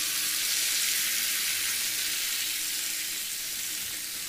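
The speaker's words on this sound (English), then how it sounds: "mix it well," Mixed vegetables, including tomato, amaranth and boiled peas, fry in a pan with a loud, steady hiss that holds evenly for several seconds, close up and without voices.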